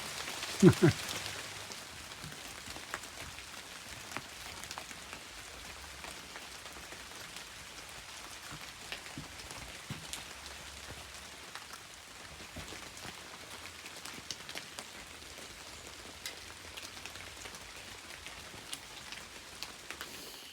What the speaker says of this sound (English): Pouring rain where I am